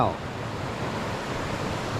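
A rushing waterfall pours in a steady, broad roar of falling water close by, constant and unbroken, with a faint voice briefly at the start.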